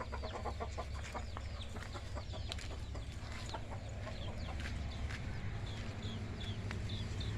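Jungle fowl chickens cluck repeatedly in short, overlapping calls, some near and some farther off, over a steady low background hum with no talk.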